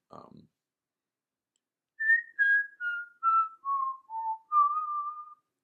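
A person whistles a short melody of seven clear, evenly spaced notes of equal length, descending then rising, after a brief soft noise at the start.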